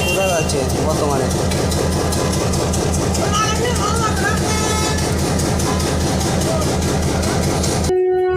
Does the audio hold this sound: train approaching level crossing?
yes